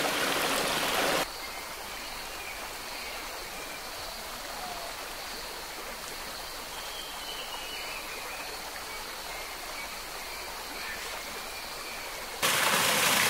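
A waterfall and stream in the Papua New Guinea highlands pour with a steady broadband rush of water, close and continuous, with brief louder bursts at the start and end.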